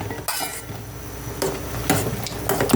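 A spoon stirs sinigang na salmon in a pot after radish and okra go in, giving a few scraping, clattering strokes over a soft simmering hiss.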